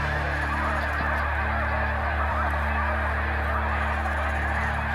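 A flock of migrating geese honks continuously and loudly, many overlapping calls forming a dense, steady chorus with no speech.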